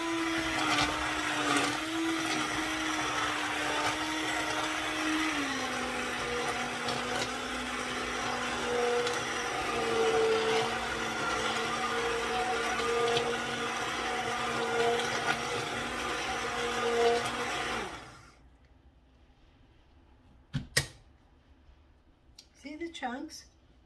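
An immersion blender whirs loudly and continuously, its pitch dropping slightly as it works, then cuts off abruptly, leaving a few faint clatters and quiet sounds.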